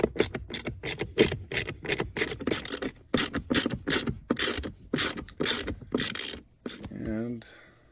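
Ratchet tightening bolts on the interior front fan of a Grand Caravan, a close series of quick rhythmic clicking bursts with short pauses between strokes.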